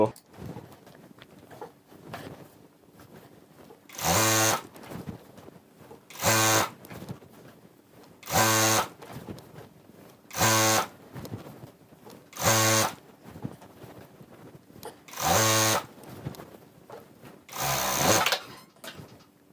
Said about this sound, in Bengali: এভাবে ধরে এই মাঝখানে সেলাইটা দিয়ে দিব